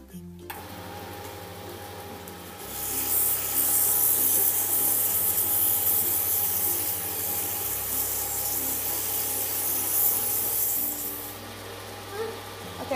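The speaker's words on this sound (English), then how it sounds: "I can start sandpapering with a 100 grit piece of sandpaper" Turned wood on a lathe sanded with 100 grit sandpaper, a loud steady abrasive rasp over the low hum of the spinning lathe, lasting several seconds before easing off.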